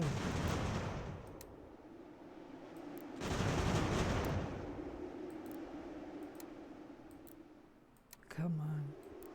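Musket volleys and gunfire in the strategy game Ultimate General: American Revolution, a dense rolling crackle of massed shots, swelling louder in the middle, with a few sharper clicks and a brief low tone near the end.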